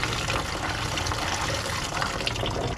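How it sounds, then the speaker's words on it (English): Coolant gushes out of a car's cooling system in a steady, splashing pour, close and continuous for a few seconds with no voices. "Just spill coolant or water or whatever that is all over everything."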